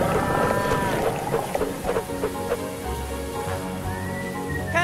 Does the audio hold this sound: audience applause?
no